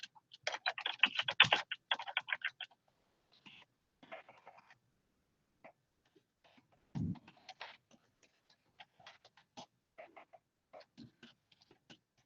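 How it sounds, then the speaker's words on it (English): Bursts of keyboard typing while a post is entered on a classroom app, a busy flurry of quick clicks at first, then sparser scattered keystrokes, close and alone with no talk. "You can type up here."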